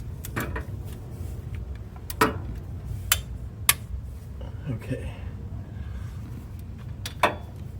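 A torque wrench set to 29 foot-pounds tightens bolts during a front differential fluid change, giving several sharp, separate clicks over a low background hum while a person talks.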